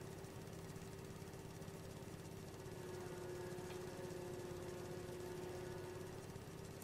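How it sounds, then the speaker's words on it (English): A lawnmower engine in Farming Simulator 22 drones steadily at an even idle throughout, with no talking over it. "Because I think it just sounds like a lawnmower."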